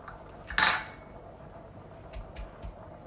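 A sharp metallic clack of a garlic press being squeezed on garlic, followed by a few softer taps and clinks, close and fairly quiet.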